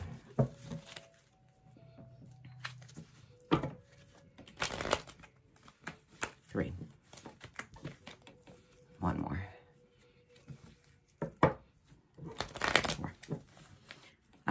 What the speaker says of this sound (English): Let's do four shuffles.